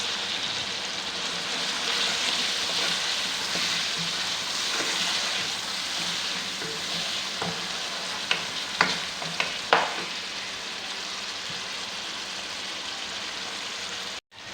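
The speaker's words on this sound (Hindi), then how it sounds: "अब इसमें हम चिकन डालेंगे, इसको फ्राई करेंगे।" Chicken pieces fry in a pan of garlic and onion masala, a steady close sizzle with scattered scraping and stirring clicks, and no voices over it.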